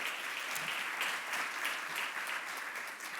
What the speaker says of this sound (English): Let's give a round of applause for the people who make this all possible.